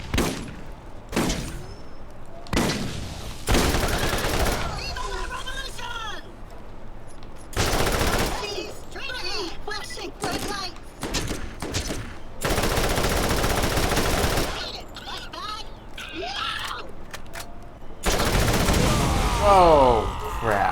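Combat rifle firing in the shooter game Borderlands, long fast bursts of loud close automatic gunfire with short pauses between, and other in-game sounds and voices between bursts.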